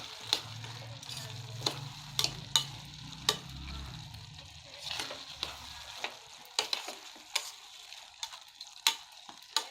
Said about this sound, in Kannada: ಚೆನ್ನಾಗಿ ಎಲ್ಲನ ಮಿಕ್ಸ್ ಮಾಡಬೇಕು